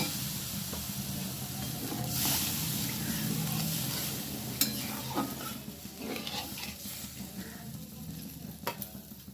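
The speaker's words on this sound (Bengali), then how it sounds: "এবারে আমি জল দিয়ে দিচ্ছি।" Water poured onto sautéed spice masala in a pan for a cauliflower and matar dal dish sets off a steady, hissing sizzle with stirring scrapes and faint utensil clinks throughout.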